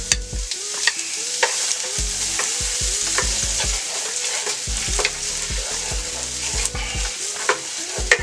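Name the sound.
onion frying in oil in a skillet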